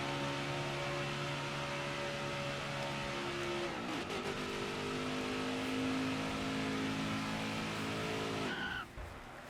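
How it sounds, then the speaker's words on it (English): A NASCAR race car in the NASCAR Heat 5 video game performs a burnout at the start-finish line: loud, steady engine drone with shifting pitch and tire squeal, a rough transition midway, then a sudden cutoff near the end. "now doing our Matt Kenseth style burnout right at the start-finish line"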